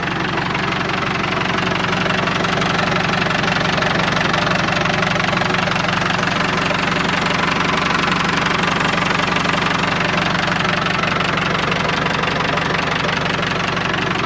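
An old International 100C tractor engine idles with a steady, rough low rumble and faint knocking, running unbroken throughout, loud and close, with no voices.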